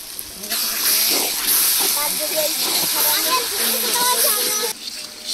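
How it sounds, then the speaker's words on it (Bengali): Spice paste with a bay leaf frying in a pan, a loud continuous hiss and splutter running throughout, while a voice talks over it. "মশলাটা ভালো করে কষিয়ে নেব।"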